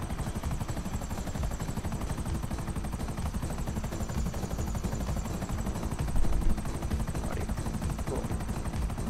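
Enemy gunfire during a GTA Online bunker sale mission, a steady rattling stream of automatic shots over a constant engine-like drone, with one louder burst near the end.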